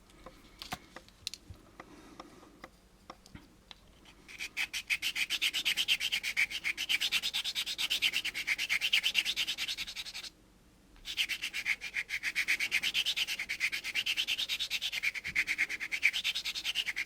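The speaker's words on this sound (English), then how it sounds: "Do a little cross sanding method here." A small plastic part from an AMT U.S.S. Enterprise model kit is cross sanded by hand, giving rapid, close scratchy strokes in two long runs separated by a brief pause, after quieter handling noises at the start.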